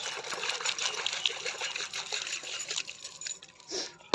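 Water is poured onto plants in a village garden, a steady splashing trickle running close and continuous, ending with a louder gush.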